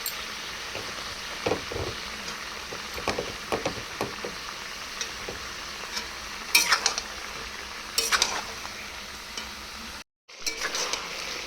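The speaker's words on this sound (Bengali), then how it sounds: "তো ঢাকনা সরিয়ে মাঝে মধ্যে এরকম নাড়াচাড়া করে নিতে হবে" Chicken curry with potatoes gets stirred in a covered pot. Intermittent spoon scrapes and clinks ring against the metal over a low simmering sizzle, followed by a brief clatter as the lid moves and a short moment of silence.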